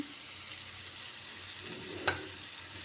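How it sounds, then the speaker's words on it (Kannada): Stuffed eggplant frying in a pan with cooked-down tomato and onion: a quiet, steady sizzle with a single sharp clunk from a utensil near the end. "ಟೊಮೆಟೊ ಮತ್ತು ಈರುಳ್ಳಿ ಚೆನ್ನಾಗಿ ಬೆಂದ ಮೇಲೆ ಇದಕ್ಕೆ ನಾವು ತುಂಬಿಕೊಂಡಿರೋಂತಹ ಬದನೆಕಾಯಿನ ಹಾಕಿ"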